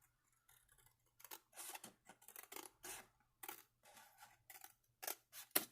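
Scissors cut paper for a 4x4 accordion mini journal in a quiet, uneven run of crisp, close snips, each a short burst with small gaps between.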